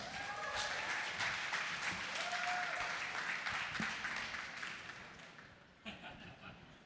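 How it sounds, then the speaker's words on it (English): A conference audience at the ETHGlobal New York 2025 hackathon opening ceremony applauds steadily for several seconds, a dense wash of clapping that tapers off near the end as a few scattered claps linger. "Please give him a big round of applause."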